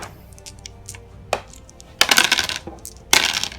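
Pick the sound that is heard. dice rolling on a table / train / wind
dice rolling on a table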